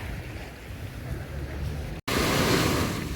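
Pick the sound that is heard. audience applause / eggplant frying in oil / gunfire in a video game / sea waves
sea waves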